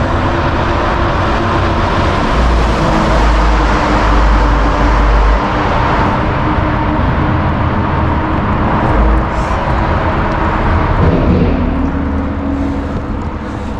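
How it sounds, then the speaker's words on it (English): A truck passes on a mountain road, its loud rumbling engine and tire roar building and holding close for several seconds before slowly fading. "Now a car comes, a LKW, wow,"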